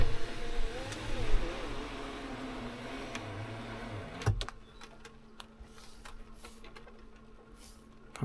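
A Range Rover Sport SVR sunroof with freshly greased tracks runs through an electric motor whir, then stops with a sharp clunk and a few faint clicks. The sound is close and steady, with no voices.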